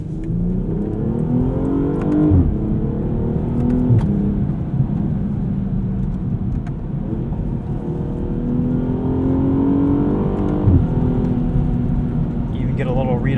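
BMW 840i xDrive Gran Coupe inline-six engine in sport mode accelerating through the gears, revs climbing repeatedly with brief dips at each shift, a steady loud cabin drone with some talk over it.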